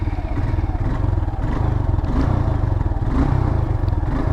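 A modified Suzuki Gixxer motorcycle pulls away at the start of a ride, its engine running with a steady, close, rumbling throb and mild revving, with no talk.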